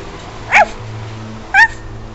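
A German shepherd dog gives two short, sharp barks about a second apart, moderately close, over a faint low background hum.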